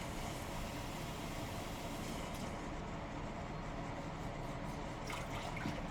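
Water pours into a cooking pot while making chicken katsudon, a faint continuous splashing stream that changes slightly partway through, with no talking over it.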